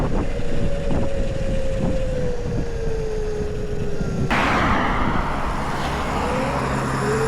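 The Krusade Monster Max mid-drive ebike motor gives a steady high-pitched whine that slides slowly downward while riding at speed on a battery of about 62 volts, mixed with loud wind rush that swells abruptly partway through.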